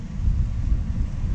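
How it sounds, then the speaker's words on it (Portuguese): Strong wind buffets the microphone amid storm damage in Oeiras, a steady low roaring rush that fills the short stretch without pause and without voices. "tá ventando."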